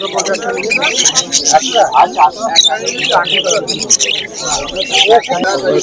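Caged pet birds chirp, tweet and coo continuously at Uluberia pet market, a busy mix of many small birds calling at once with crowd babble and voices underneath.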